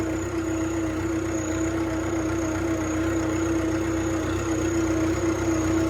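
A tractor engine idles steadily and close by in a paddy field, a constant low rumble with a droning hum that holds unchanged from start to finish.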